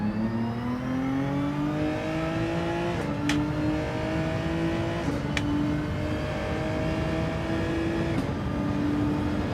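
Race cars in a racing video game scream past on track, their engines loud and sustained, pitch climbing steadily through the gears with a few brief shift breaks, and no talk over the continuous roar.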